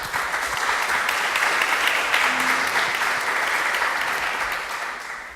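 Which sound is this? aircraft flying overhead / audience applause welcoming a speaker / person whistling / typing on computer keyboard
audience applause welcoming a speaker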